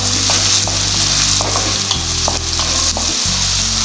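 Finely chopped onion frying in a pan for gobhi manchurian, a loud, steady sizzle broken by brisk stirring and scraping strokes heard close by, with no one talking.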